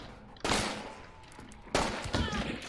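Gunfire in the video game Hunt: Showdown, two loud bursts of shots ringing out with a lingering tail, close and dominant over a faint background.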